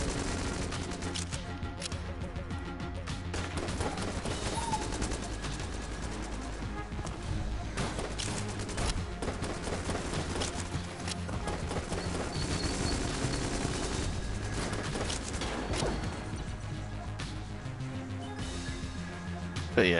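Continuous rapid-fire gunfire from the video game Enter the Gungeon, a dense, loud barrage of shots and blasts that keeps going for the whole stretch with barely a break.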